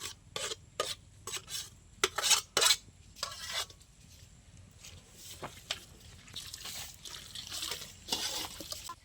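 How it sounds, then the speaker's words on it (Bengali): Cumin, chili, ginger and garlic pastes being mixed by hand in a pot, giving soft intermittent rubbing and scraping strokes with light utensil clinks, fairly quiet and close. "আমরা এখন মেখে নেব ভালো করে।"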